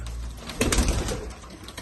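Spanish posta rubella pigeons coo inside a coop. One short, low coo stands out in the middle over quiet background rustle.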